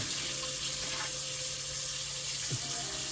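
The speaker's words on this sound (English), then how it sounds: "sorry, I gotta rinse out this, the cup that it was made in" Tap water runs steadily into a sink while a cup used for making Sichuan Guangyou Mian Yang beef-flavor rice noodles is rinsed out, a continuous broadband hiss at moderate level with a brief splash near the end.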